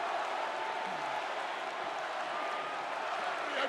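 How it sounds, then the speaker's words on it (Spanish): Dense, steady crowd applause and cheering fills a large WWE wrestling arena, a continuous wash of clapping with no breaks and no talk over it. "Y la gente lo aplaude en Granby"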